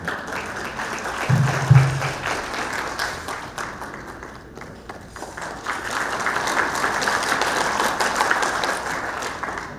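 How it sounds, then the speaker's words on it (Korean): A crowd applauds at a Lions Club 62nd anniversary ceremony, a sustained, moderately loud patter of many hands clapping that softens briefly midway, then rises and holds steady, with a single low thump early on. "큰 박수 부탁드립니다."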